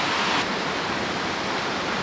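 A waterfall in the deep woods, where big trout hold, roars as a steady, loud broadband rush of falling water that stays constant and dense with no voices over it.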